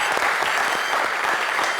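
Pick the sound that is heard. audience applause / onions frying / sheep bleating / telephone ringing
audience applause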